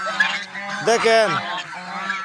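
A domestic goose, a prized pet raja hash, gives a loud, close honk in the middle, with softer calls around it and someone speaking briefly over the birds.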